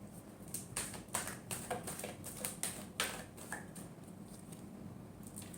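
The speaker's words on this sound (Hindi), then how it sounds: "last shuffle" Tarot cards being shuffled by hand, a quiet run of soft riffling taps and flicks that comes in short bursts over a faint room hush, with no voice.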